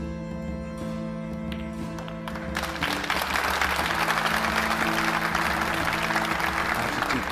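An audience in a convention centre claps at a pool final, applause swelling from a thin patter into a broad, sustained wash of hands that carries on steadily, with a faint hum underneath.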